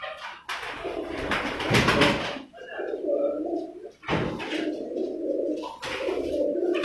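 Pigeons coo in soft, low repeated calls, with people talking loudly over them in the foreground for most of the stretch.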